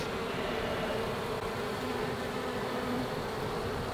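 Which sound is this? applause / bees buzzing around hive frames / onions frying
bees buzzing around hive frames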